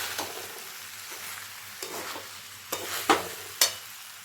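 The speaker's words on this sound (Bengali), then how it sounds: "এবার চালটাকে চিকেনের সাথে খুব ভালো মতন আরেকবার ভেজে নেব।" Rice being stir-fried with chicken, cashews and raisins for chicken pulao, a steady close sizzle with scraping strokes of the spoon and several sharp clacks of metal against the pot near the end.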